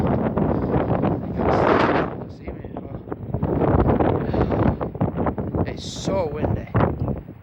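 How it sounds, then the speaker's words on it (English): Strong wind buffets the microphone outdoors on an open field, heavy rumbling gusts rising and falling throughout while people talk close by. "it's so windy"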